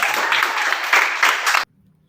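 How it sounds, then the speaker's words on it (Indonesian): Applause from a small group, brisk and steady for about a second and a half before cutting off abruptly into silence. "Oke, aplaus semuanya."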